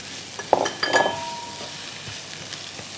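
Cumin, ginger and onion hit hot oil in a pan for a home-style rajma chawal, giving a brief burst of sizzling with a few clinks of a utensil, then a low steady fry alone.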